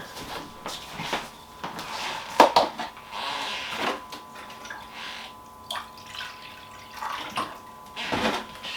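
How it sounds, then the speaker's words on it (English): Fresh water is poured and splashed into a pet's dish, heard as scattered trickles, drips and clunks of the container, close and uneven with pauses between bursts. "Get her some fresh water."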